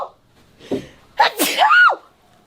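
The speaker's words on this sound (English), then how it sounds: "You know why I sneezed?" A single sharp sneeze, a brief intake then an explosive burst, close and loud, preceded by a faint snort-like breath.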